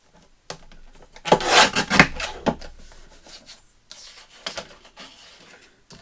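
Scissors or a paper trimmer slicing through craft paper for a handmade gingerbread man journal, a short burst of crisp rasping cuts, close and fairly loud, followed by lighter rustling and small snips in a quiet room.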